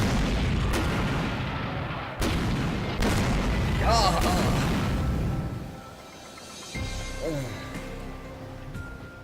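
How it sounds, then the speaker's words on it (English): Random explosions rain down in the video game Rose Guns Days: several booming blasts and sharp bursts land close and loud, one after another, with a low rumble lingering between impacts. "Who could possibly be able to rest in peace if they were killed in this rain of random explosions?"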